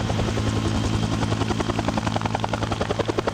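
A helicopter drones steadily at close range, its rotor chopping in a fast, even rhythm over a deep engine rumble.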